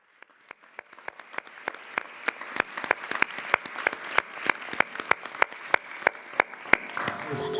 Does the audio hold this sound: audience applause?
yes